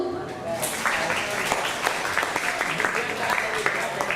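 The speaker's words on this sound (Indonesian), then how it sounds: "Tepuk tangan dulu" Students clap at a high school cultural and language week event, a moderate, steady patter of applause in a reverberant hall lasting a few seconds, with some faint background sound.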